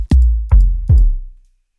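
Three deep, booming sub kick drum samples from XLN Audio XO, evenly spaced, each with a long low tail fading out after the last.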